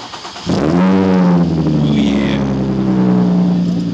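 An Infiniti G35 fitted with test pipes cranks and fires up, then its engine revs loudly and close, the pitch climbing and holding at a strong raspy drone.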